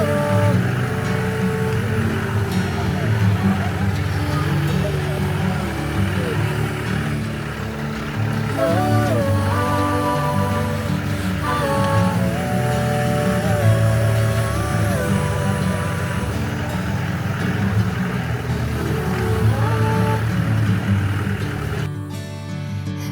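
A jeep climbs an off-road hill track in rainy, misty weather, its engine droning steadily and loudly throughout with some shifting tones as it labours uphill, no voices standing out.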